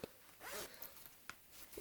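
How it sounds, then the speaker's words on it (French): Zipper on one of the pockets of a fabric envelope wallet, a quick close zip followed by a couple of small clicks and a second short zip, alone in a quiet room. "6 pochettes, toutes avec une fermeture éclair"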